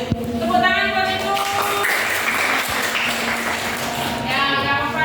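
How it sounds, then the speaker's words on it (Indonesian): Broadband clapping in a classroom as students applaud a classmate, dense and steady throughout, with a teacher's voice and tonal chatter running over it. "Tepuk tangan buat itu."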